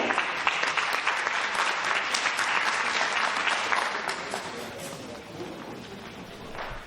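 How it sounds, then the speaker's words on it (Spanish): Applause from an audience at a citizens' urban development planning workshop, a dense round of clapping that holds steady before gradually thinning out. "le damos un aplauso"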